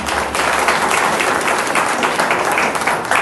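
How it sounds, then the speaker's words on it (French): Audience applause at a church gathering, a dense, loud wash of many hands clapping together, steady throughout with no break. "Applaudissez tout le monde"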